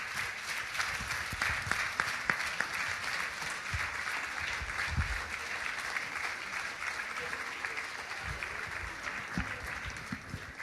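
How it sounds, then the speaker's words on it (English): A crowd at a community rally against gun violence gives a long, even round of applause, with scattered voices and shouts mixed into the steady clapping. "Can you guys give them a round of applause?"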